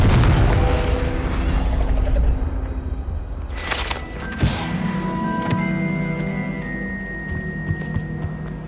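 A Confringo explosion spell cast in Hogwarts Legacy, a single booming burst about midway followed by ringing, shimmering magical tones and lingering rumble.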